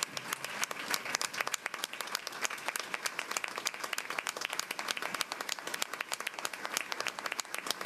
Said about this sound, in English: I'd like to ask for a round of applause for Dr. Bob Fisher and Belmont University